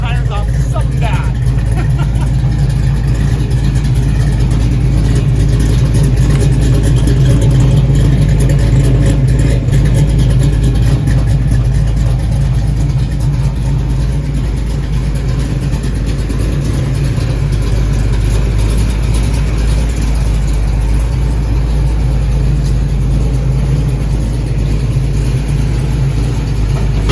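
A car engine fitted with new mufflers and an H pipe rumbles and revs steadily, deep and loud close by for nearly half a minute, with a voice talking over it.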